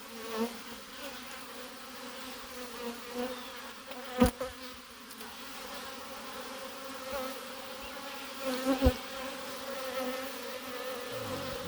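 Honeybees hum steadily in an opened beehive, a close, continuous drone that swells into a few louder passing buzzes as individual bees fly near.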